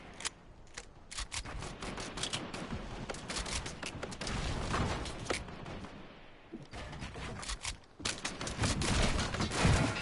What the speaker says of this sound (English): Bro, you're shooting me down!